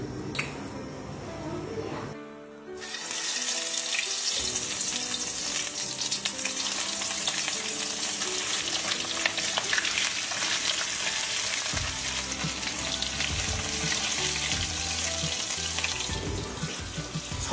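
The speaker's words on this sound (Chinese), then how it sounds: "炒的时候呢，先把这个鱼鳞这一边把它先炸一下，然后肉里面这边呢稍微炸一点一点就可以出锅的了" Pickled fish, a Guizhou Miao specialty, frying scale side down in plenty of oil in a wok, giving a loud, steady, continuous sizzle after a brief quieter start.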